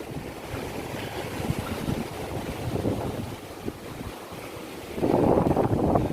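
Water flows and rushes steadily outdoors at Mangalam Dam in Palakkad, where water is held back, while wind buffets the microphone, and the wash surges louder toward the end.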